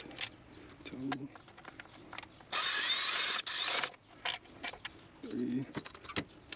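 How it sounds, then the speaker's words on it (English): A ratchet cranks intake manifold bolts on a 2009 Chevy Malibu during a gasket replacement. It gives one loud, steady burst of rapid clicking lasting about a second and a half, with softer knocks and handling noise around it. "go ahead and just crank these over here"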